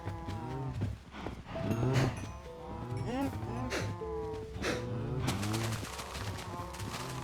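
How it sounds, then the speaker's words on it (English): Cows in the game Minecraft moo repeatedly, several drawn-out calls overlapping one another at close range, with a few sharp clicking game sounds scattered between them. "I was trying to add some shade or a shady area for the cows"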